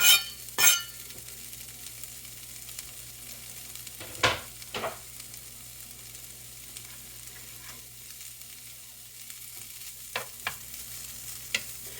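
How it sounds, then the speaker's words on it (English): Bacon frying in a pan, a steady sizzle and crackle running throughout, with a few louder clatters of stirring or pan scraping near the start and scattered through the middle and end; no voices. "We'll get our bacon in here, start cooking."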